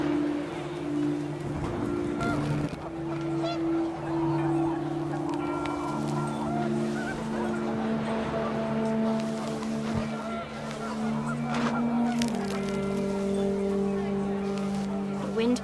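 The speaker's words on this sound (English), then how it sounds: "The wind picked up, and panicked geese appeared and quickly went." Panicked geese honk and squawk in overlapping bursts over gusting wind in the video game What Remains of Edith Finch, with sustained tonal calls layered throughout and a voice talking over part of it.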